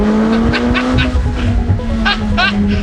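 McLaren 570S supercar driven fast with the top down on a mountain road, loud close engine roar with a steady tone and rising revs, mixed with rushing wind noise.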